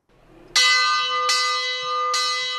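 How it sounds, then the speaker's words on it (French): The church bell of Hautecombe Abbey, above the Lac du Bourget, rings the hour of prayer with three loud, ringing strokes about three-quarters of a second apart, each one's resonant hum lingering into the next. "la cloche de l'abbaye d'Hautecombe sonne l'heure de la prière."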